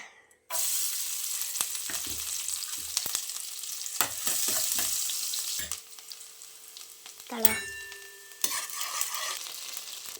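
Finely chopped garlic dropped into hot ghee, an abrupt loud sizzle that bursts in and then continues with stirring knocks and scrapes in the pan, with a short dip partway through.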